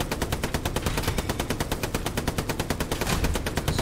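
Rapid automatic weapon fire from an enemy rocket-launcher position in a French-language shooter video game, sustained bursts of repeated loud shots hammering steadily throughout with no voices over it.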